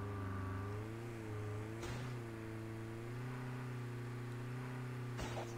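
Steady vehicle engine drone while driving in the Call of Duty battle royale game, holding a constant pitch with slight rises, moderately loud and continuous, with two brief bursts of noise partway through.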